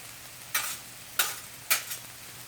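Chicken fried rice hisses steadily in a hot pan, punctuated by three sharp bursts of sizzling as it is stirred and tossed, close up with no speech.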